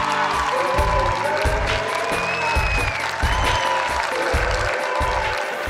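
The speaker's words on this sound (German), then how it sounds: "Großen Applaus bitte für Tom Beck." Applause and cheering from an audience at a Berlin film premiere, a dense, steady wash of clapping from a large crowd with a rhythmic thumping beat underneath, sustained throughout at close range.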